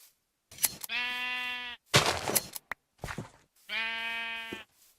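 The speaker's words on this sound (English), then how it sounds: "Where are you, sheep? I heard you." Minecraft sheep bleating twice, each a loud, close, quavering bleat, separated by short rustling footsteps and clicks of play.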